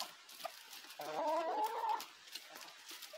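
Farmyard chickens clucking at a ranch, a brief burst of fowl calls in the middle of a quiet, faint background.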